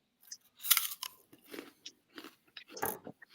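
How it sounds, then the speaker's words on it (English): Someone crunching on an apple near a microphone, a series of crisp, irregular bites and chews repeating every half second or so, fairly close and quiet, with no talk. "What are you crunching on over there? Apple?"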